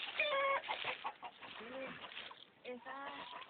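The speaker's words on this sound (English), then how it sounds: "Ah, chickens." Chickens and a rooster cluck close by on a farm, a string of short rising and falling calls under a person's quiet talk.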